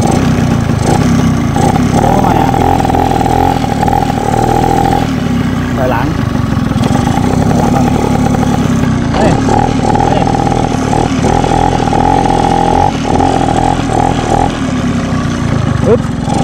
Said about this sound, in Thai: สตาร์ทรถก่อนนี่ฮะนี่เลขใหม่นะครับผม 140 4สปีดนะครับผม4เกียร์